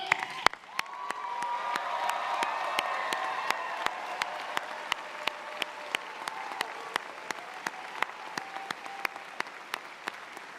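A large commencement audience gives the standing graduating class a sustained round of applause, dense clapping that fills the hall for about ten seconds, with scattered sharp claps standing out and slowly tapering.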